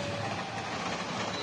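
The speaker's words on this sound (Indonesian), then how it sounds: "Pada awalnya kereta melintas seperti biasa, tetapi di bagian belakang kereta tiba-tiba anjlok." Purwojaya passenger train rolling past near Kedung Gede station in Bekasi, a steady loud rumble and hiss of passing cars over a short stretch.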